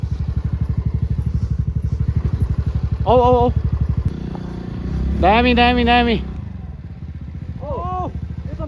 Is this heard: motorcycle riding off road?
yes